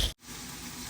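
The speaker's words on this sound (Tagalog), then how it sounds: "Prito muna natin ang chicken para malinamang." Chicken pieces for adobo fry in hot oil, a steady, dense sizzle that fills the clip after a brief thump and a split-second gap, close and continuous.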